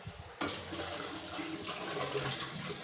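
Water pours steadily from a tap onto soaked rice and chana dal being rinsed, a sudden rush that starts after a brief pause and then flows evenly and fairly close.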